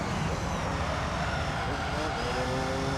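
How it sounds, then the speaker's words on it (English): A loud, steady race car engine roar in Gran Turismo 3: A-Spec, with a broad rushing drone, continuous and unchanging. "Listen to the sound of this car."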